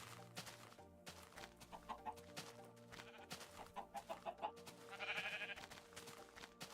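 Short bursts of chicken clucking from Minecraft pop up several times over steady background music, fairly close, with a brighter flurry of clucks near the end.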